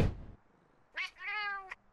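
A cartoonish cat character from the Monster Hunter Stories video game gives a short two-part meow, a brief chirp then a longer, clear tonal mew, following a dull thump at the start.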